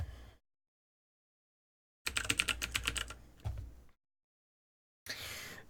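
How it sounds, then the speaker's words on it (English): Rapid keystrokes on a mechanical keyboard at a basement streaming desk, with two bursts of quick clacking typing separated by silence, loud and close with no voices. "I have two mechanical keyboards."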